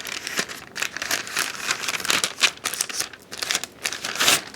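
Paper is folded into a triangle and creased again, making close crinkling and rustling in irregular bursts throughout with no talking.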